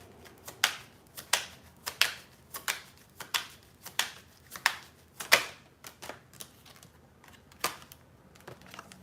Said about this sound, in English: We didn't even pull the rest of the cards.